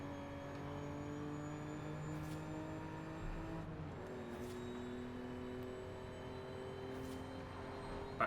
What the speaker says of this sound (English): That guy's just doing donuts